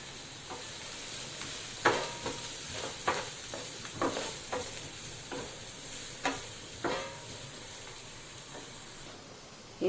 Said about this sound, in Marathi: कांदा आपण तेलावरती परतून घेतोय